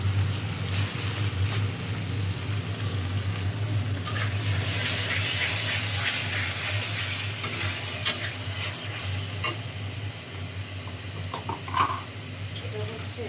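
Chopped tomato fries in a pan with spice paste, giving a steady, close sizzle with occasional stirring scrapes and clinks over about thirteen seconds.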